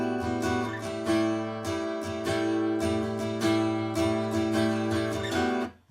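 Strummed chords on an acoustic guitar in a steady rhythm, down and up strokes repeating evenly, with no voices, moderately quiet.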